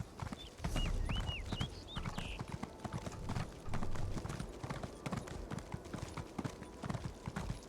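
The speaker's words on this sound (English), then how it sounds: "I am riding on my horse" Rapid, rhythmic hoofbeats of a galloping horse in the video game Elder Scrolls Online, steady and close, with a few high chirps near the start.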